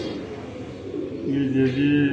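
Low, soft cooing from pigeons in a loft, a few rolling coos close by, the last ones swelling louder toward the end.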